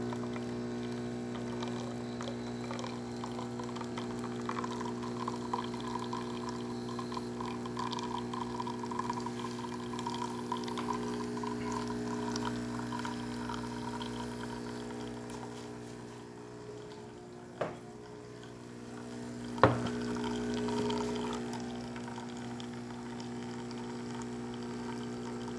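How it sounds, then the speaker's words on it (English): A Gaggia Babila espresso machine fitted with a new water pump hums steadily as it pours a stream, the close, even pump drone running throughout with a couple of brief clicks near the end. "You can see nice steady stream coming out of the machine, pretty good color"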